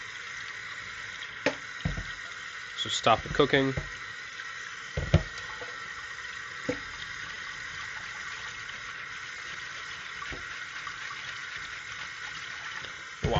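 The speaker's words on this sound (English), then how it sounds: "And now we're going to rinse the rice with cold water." Cold tap water running steadily into a sink while boiled brown rice is rinsed, a continuous hiss with a few clinks and splashes, and a voice speaks briefly over it.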